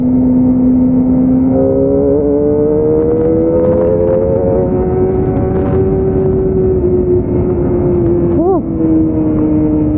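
A Kawasaki Ninja ZX-25R motorcycle ridden at night, its engine a loud, close, continuous drone with steady pitch that slowly rises, plus a brief rev blip near the end.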